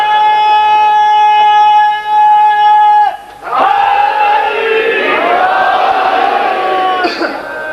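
A huge crowd of thousands roars chanted slogans, first over a sustained tonal drone, then breaking into a loud surging wave of massed voices.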